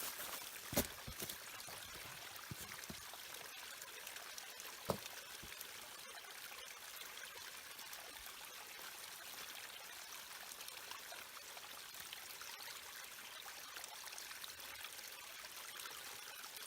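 A steady, faint wash of flowing water like a distant creek, with a couple of soft clicks and no talking.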